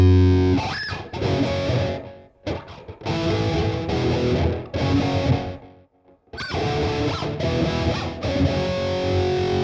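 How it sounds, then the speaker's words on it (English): A distorted electric guitar played through an analog delay pedal for a dark 1980s-style tone, loud and close, with chords and notes ringing into echoing tails, broken by two short gaps. "Now let's make a change to the analog delay, just to see what the difference is."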